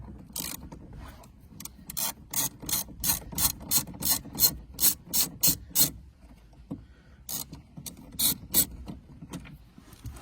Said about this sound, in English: So we're going to get this last bolt out, and hopefully that is it.